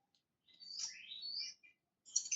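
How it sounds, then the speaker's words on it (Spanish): Small birds chirp nearby in a few quick bursts of high, sweeping tweets and short calls, with brief silent gaps between them. "Oiga, qué bonito se ven los pajaritos ahí."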